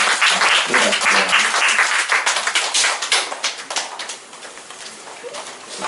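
A church congregation at a graduation service breaks into loud, dense applause that starts full and gradually thins into scattered claps as it dies down.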